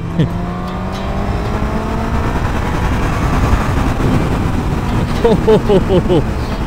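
A large car cruises along an empty, smooth desert road about 20–25 km outside a Saudi city, its engine and tyre roar steady and close throughout while someone talks over it.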